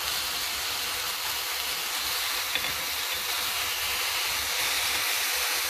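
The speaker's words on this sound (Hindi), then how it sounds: "आदि लहसुन के पेस्ट राखि दै छियै।" Ginger garlic paste frying in a pan for an arbi curry, a steady loud broadband sizzle that continues evenly throughout with no talk.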